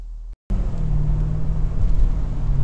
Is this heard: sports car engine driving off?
yes